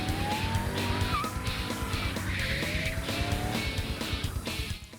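A drift car slides very close to the clipping point, its tires squealing in a long, loud continuous screech over a steady engine roar, with no pause across the whole stretch.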